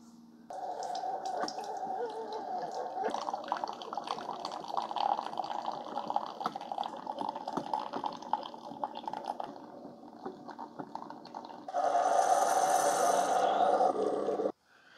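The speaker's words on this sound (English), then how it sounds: "today I'll be brewing it with the Keurig K-Slimmed." A Keurig K-Slim coffee maker brews an 8-ounce K-Cup through its five-needle puncture, giving a steady watery hiss and gurgle that grows louder and harsher near the end as the last of the water is pushed through.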